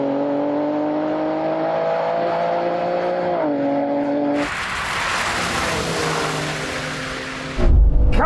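A BMW X3 M and a BMW M2 accelerate hard off the line in a drag race, engine notes rising steadily through the gears, then a sudden burst of broadband roar and rushing wind noise as the cars pass close and loud.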